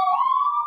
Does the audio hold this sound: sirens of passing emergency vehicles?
yes